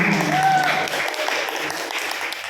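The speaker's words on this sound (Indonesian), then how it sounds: "tepuk tangan untuk kelas 10" A class of grade 10 students claps in a classroom, a dense burst of applause starting at once and thinning after about a second, with a voice calling out briefly over it.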